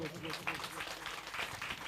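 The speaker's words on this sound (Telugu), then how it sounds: "చప్పట్లు కొట్టు." Audience applause fills a gospel meeting hall with steady, dense clapping that runs under a preacher's voice throughout.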